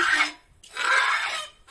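Two close, loud rasping scrapes come from preparing food for an Isan-style snail curry. A short stroke is followed by a longer one, with a brief pause between them and no speech.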